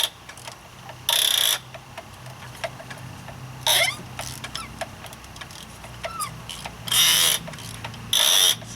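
A hand ratchet turning a corroded spark plug on a BMW N55 engine, with several loud, close bursts of rapid clicking from the pawl as the handle swings back, separated by quieter creaks and scrapes.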